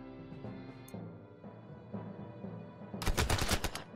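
Gunfire in the Warsaw video game comes as a loud burst of several rapid shots near the end, after quieter in-game sounds with faint clicks and tones.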